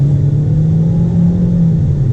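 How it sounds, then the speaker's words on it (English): A Kia Seltos engine with a CVT drones loudly and steadily, a low rumble with a rising whine layered over it, as if revving under load. "it does start to get whiny as the engine revs up"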